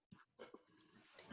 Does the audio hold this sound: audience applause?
no